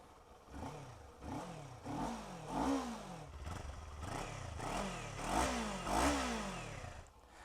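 A Kawasaki Z400 motorcycle engine starts up and runs, giving a series of rising and falling revs with a clattering mid-range tone, close and steady, with no speech over it.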